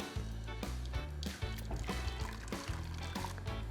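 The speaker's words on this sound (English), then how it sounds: "We're gonna transfer it into the pan," Custard for a cream Napoleon being poured from a pot into a pan, heard as a soft, continuous liquid pour and trickle with low thumps and scrapes of cookware, quiet and close, no talking.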